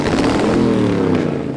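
Parade-of-lights vehicle engine revving up close, a loud throaty roar with rumbling lows sustained across a short burst.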